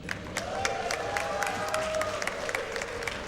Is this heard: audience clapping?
yes